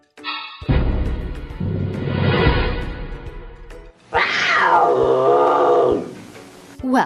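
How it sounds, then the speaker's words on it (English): A big cat roars twice, near and loud. First comes a long, rumbling roar, then after a brief pause a second, higher, wailing roar that trails off. "Look at that big cat"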